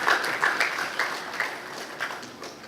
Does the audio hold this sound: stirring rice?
no